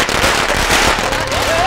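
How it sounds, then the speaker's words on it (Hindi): Firecrackers bursting in a steady noisy crackle throughout the short clip, with voices shouting over it. "पटाखे फोड़ो"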